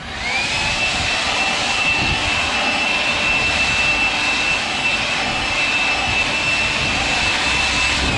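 Kobalt 80V leaf blower running on turbo, a steady, loud whooshing airflow roar with a high motor whine that holds constant throughout.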